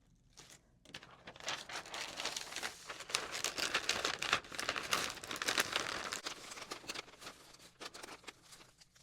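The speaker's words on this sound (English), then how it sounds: "I'm gonna wrap it in paper like I usually do" Paper crinkles and rustles steadily as an item is wrapped in packing paper for shipping, a dense, close, continuous crackling that swells in the middle and tapers off, with no talking.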